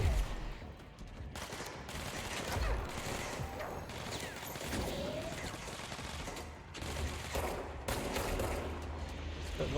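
Gunfire in the video game Control, dense and sustained bursts of shots with crashing impacts, loud and continuous across the whole stretch with brief dips.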